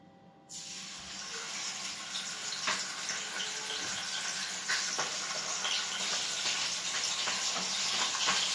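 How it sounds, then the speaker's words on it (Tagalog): Fish dropped into a hot frying pan, a sudden burst of loud sizzling that continues steadily as the oil spatters and crackles. "Lagyan ko lang po muna ito ng isda para mainit na po yung ating kawali"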